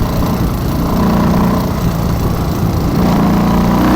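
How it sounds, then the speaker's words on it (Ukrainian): Engine of a vehicle that won't move, held under throttle: a loud, steady mechanical drone with a slight surge toward the end, close by and without speech. "я даю газу, робить нормально"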